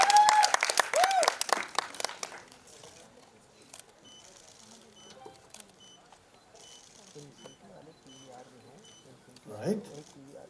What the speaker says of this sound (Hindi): एक बार जोरदार तालियां पारुल के लिए हमारी।